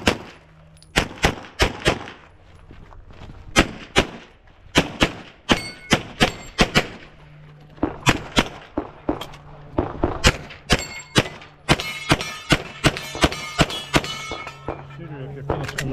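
Gunshots from an Infinity 2011 pistol at a Limited-division shooting match, a fast string of loud, close cracks in bursts with steel targets ringing after hits.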